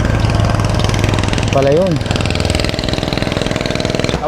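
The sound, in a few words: motorcycle engine idling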